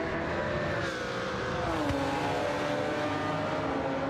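A Honda NSX in a racing video game drones at steady engine pitch with a slight downshift in tone, a continuous mechanical whine heard alone without talk.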